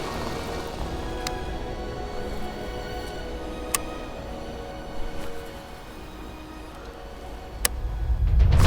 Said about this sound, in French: Qu'est-ce que c'est que cette pluie là?